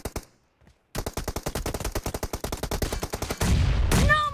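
Rapid automatic gunfire in a mobile shooter team deathmatch, dense bursts of loud shots in a steady rhythm for several seconds after a brief quiet gap, ending in a louder blast with ringing tones.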